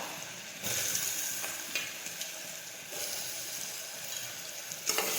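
Chopped sponge gourd frying in hot oil with mustard seeds, cumin and asafoetida, giving a steady close hissing sizzle that swells as the pieces go in, with a few light stirring clicks and no talk.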